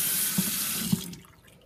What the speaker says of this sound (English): I'm going to go ahead and rinse until all my soap is gone